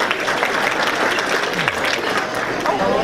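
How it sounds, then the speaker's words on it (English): Audience applause at an awards dinner gala, a dense, steady wash of clapping across a banquet room that holds loud throughout, with faint voices mixed underneath. "Please give Brenda Jones a round of applause"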